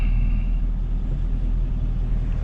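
Chevrolet Camaro ZL1 idling in snow exhaust mode inside a parking garage, a steady, subdued low rumble that stays even and quiet throughout without revving.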